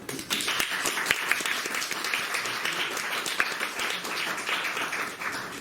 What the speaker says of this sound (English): So I would kindly ask you for a warm welcoming applause.